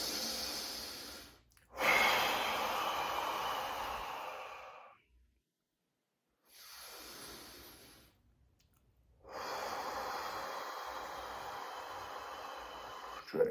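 Heavy breathing after a morning cold plunge: deep loud exhales and gasps come in bursts separated by stretches of near silence, close and alone with no talking.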